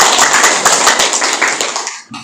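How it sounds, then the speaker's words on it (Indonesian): Audience of teachers at SMP 2 Balung applauding at a school Adiwiyata assessment event, dense steady clapping that thins out and stops near the end, followed by a brief tail. "Tepuk tangan dulu."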